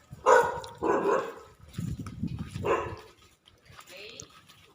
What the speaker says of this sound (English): Vicious dogs. Vicious dog.